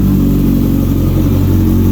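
A 2006 Kawasaki Ninja ZX-10R's engine revs loud and close, a deep, continuous growl held throughout without any talk.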